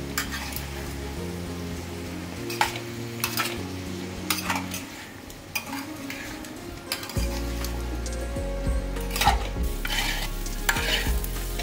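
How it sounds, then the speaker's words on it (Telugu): Raw banana pieces fry in a pan over medium to high flame while a spatula stirs and scrapes them, giving a soft continuous sizzle broken by sharp scraping strokes and clinks, with no speech. "మీడియం టు హై ఫ్లేమ్లో కలుపుతూనే ఉండాలి ముక్కల్ని."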